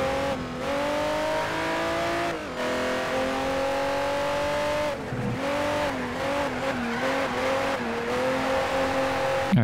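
Ferrari race car engines from Test Drive: Ferrari Racing Legends in a 512 Pro championship race, a loud, close engine whine that rises and drops through repeated gear changes, with brief tire squeals.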